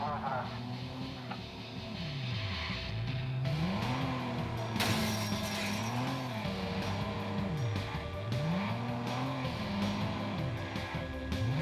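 Car engine in the Watch Dogs video game, steady with repeated rising and falling revs over a continuous mechanical drone, heard near and loud throughout.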